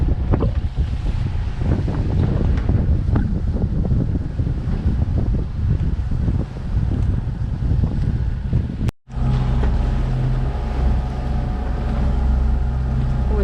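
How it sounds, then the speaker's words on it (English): Loud, gusty wind buffets the microphone over the rush of water and waves against a moving sailboat at sea off Greece, with a brief dropout partway through. "Sailing the high seas today. The windy seas."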